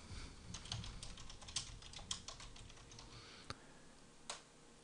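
Someone types on a computer keyboard, a quick, irregular run of close, soft key clicks with a few sharper taps, then sparser strokes near the end. No one speaks.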